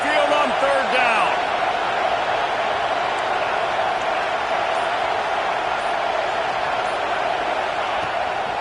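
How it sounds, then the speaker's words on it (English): A dense, loud stadium roar rolls steadily from the home crowd at an Alabama college football game against Penn State on third down, a constant wall of noise with a brief voice rising at the start. "The Tide crowd rolling noise down onto Saban Field on third down."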